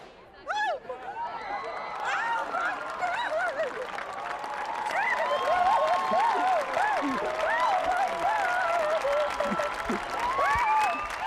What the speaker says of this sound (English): Fans flew out of their chairs, alternating between applause and drying their eyes.